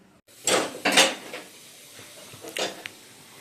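Kitchen utensils clink and clatter while roti is being made, a few sharp metallic knocks in quick succession followed by one lighter clink, with no talking.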